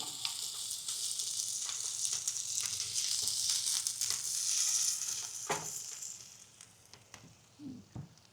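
Seasoned food browning in a pan at a campground, a steady close sizzle and crackle with occasional stirring scrapes, easing off toward the end.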